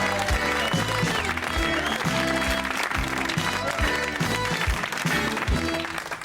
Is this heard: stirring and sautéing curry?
no